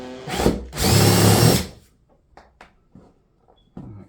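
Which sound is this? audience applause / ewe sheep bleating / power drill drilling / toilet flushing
power drill drilling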